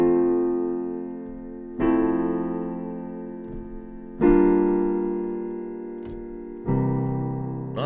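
Slow, full piano chords played alone with no singing, four sustained chords struck about every two and a half seconds, each ringing out and decaying before the next.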